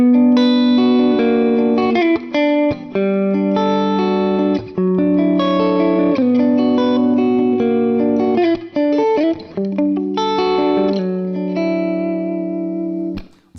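Electric guitar played through Neural DSP Morgan amp captures, with thick, distorted sustained chords and single notes ringing out in a steady, loud phrase, broken by a few brief pauses and with no talking.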